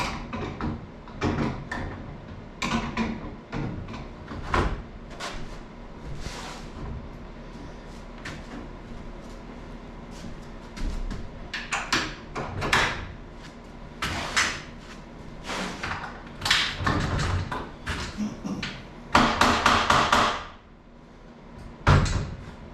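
A door is hung and swung in a new jamb in a kitchen being fitted with shiplap walls, giving repeated knocks, clunks and creaks of wood and hinges at irregular intervals, close by, with no talk.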